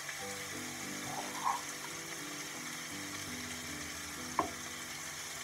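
Salmon and onion mixture being stirred in a frying pan, a soft sizzle with a couple of brief utensil scrapes against the pan.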